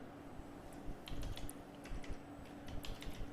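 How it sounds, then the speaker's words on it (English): Rapid, light key clicks from typing on a computer keyboard, steady and fairly close, over a low background hum with no talking. "In the narration I am typing"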